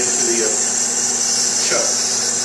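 Metal lathe turning round stock under automatic feed, giving a steady, even machine whine and hum with a continuous high tone throughout, close by.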